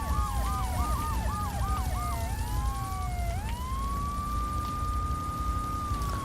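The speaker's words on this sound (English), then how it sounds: "How many police cars are after me?" Police car sirens from the video game GTA III: a rapid yelping pattern that shifts into a long, steady wail, loud and close over a constant low engine and traffic rumble.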